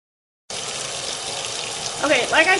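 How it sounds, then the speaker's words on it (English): Washing machine filling up with water: a steady rush of running water starts abruptly and flows loudly and close, with a slight splashing change near the end and no voices. "you really want to let the machine fill up with water first before you start putting this dye in"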